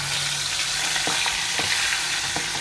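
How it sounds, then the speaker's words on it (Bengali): Plain raw chicken pieces frying in mustard oil, a loud continuous sizzle close up, with a few light knocks of stirring. "কাঁচা চিকেনটা আমি তেলে ভেজে নেব।"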